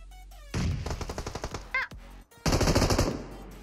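Automatic gunfire in the shooter game PUBG Mobile rattles in loud rapid bursts, first a long string of shots, then a short pause with a brief sound, then another dense burst, all close and sharp.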